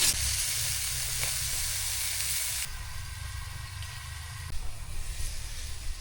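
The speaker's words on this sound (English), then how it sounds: "We're gonna throw them on the other burner so they can get nice and roasted." Food wrapped in tin foil roasting on a stove burner beside a pan of oiled taco steak, giving a steady loud sizzle and hiss that softens partway through and carries on alone.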